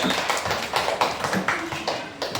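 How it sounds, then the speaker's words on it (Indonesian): Classroom of fourth-grade pupils clapping for a student group, a short burst of brisk, close applause under a little talk. "Tepuk tangan dulu buat kelompok Rasid."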